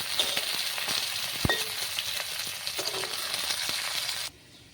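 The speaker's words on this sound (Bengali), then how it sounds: "মাছগুলোকে ভালো করে নাড়িয়ে চালিয়ে ভেজে নিলাম।" Fish frying in hot oil while being stirred: a steady bright sizzle with occasional clinks of a utensil against the pan, close up, cutting off abruptly near the end.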